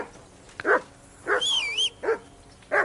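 Dog barking in the video game Kingdom Come: Deliverance 2, four short loud barks spaced across the moment with a high chirping game sound between them.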